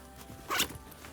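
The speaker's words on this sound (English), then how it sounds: "There is a zippered pocket." A handbag's zippered pocket is pulled open in one quick, faint zip lasting about half a second, set against quiet room sound.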